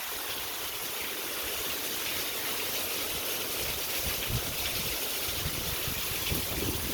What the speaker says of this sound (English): So now we're beginning to get a little bit flooded, as you guys see.